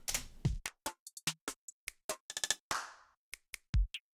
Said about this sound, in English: I don't necessarily really like this clap sound.